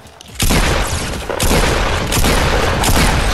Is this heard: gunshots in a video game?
yes